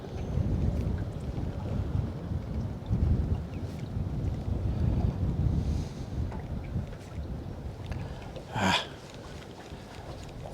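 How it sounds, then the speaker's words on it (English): Wind gusts outdoors around a fishing boat, a low, rumbling buffet that swells and fades across the clip, with a brief sharper rustle near the end and no clear speech. "That wind's picking up a little bit."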